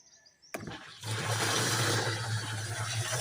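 Water rushes into a drip irrigation fertilizer tank fitted with a float valve. After a brief knock, the inflow becomes a loud, steady, close gushing with a low hum beneath it.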